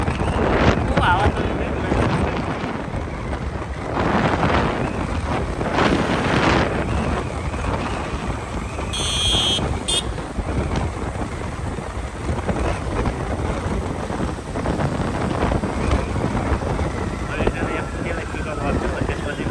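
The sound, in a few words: wind blowing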